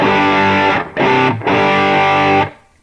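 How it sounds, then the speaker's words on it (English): An electric guitar played through a distortion pedal into an all-valve amp head rings out three sustained, gritty chords, the last fading out. "switch on your favorite distortion pedal"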